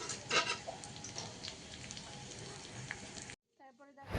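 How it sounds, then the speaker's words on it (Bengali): Chopped onions hit hot oil in a pan, giving a dense, steady sizzle that runs for over three seconds, then cuts off abruptly before a brief return of quieter kitchen sound. "পেঁয়াজটা দিয়ে দিলাম তো পেঁয়াজটাকে একটু ভেজে নিই"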